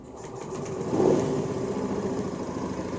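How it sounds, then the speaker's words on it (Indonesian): A Honda Beat Pop scooter engine with a heavy low end fires up and settles into a steady idle, swelling briefly as it catches, then humming evenly close by without speech. "Oke, ini mesin udah hidup,"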